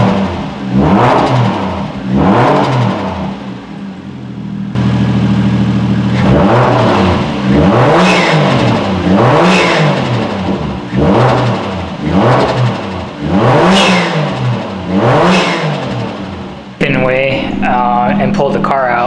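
A Toyota Chaser JZX100 engine with an aftermarket intake revs repeatedly in loud, rising and falling surges close by, with a brief higher whine near the end.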